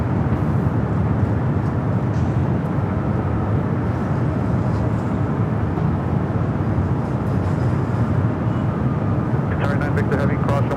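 A jet roars steadily at Los Angeles airport as an Airbus A380 airliner passes. The loud, broadband rumble holds throughout while a voice talks over it.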